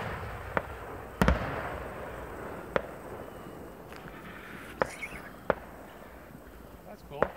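Fireworks at the Ponoka Stampede pop and bang in scattered sharp reports, some louder and nearer than others, over a steady crowd-like background hiss.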